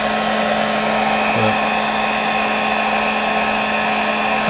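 Heat gun warming a metal body panel during a Datsun Roadster restoration, a steady close blowing roar held throughout with no talk.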